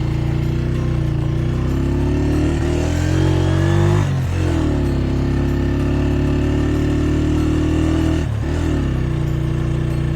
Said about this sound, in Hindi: मेरी बाइक जो है ना वो मिसिंग कर रही है।